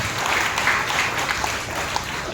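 A church congregation at a Sunday Christmas worship service claps steadily together, a dense even patter of applause with no speech over it.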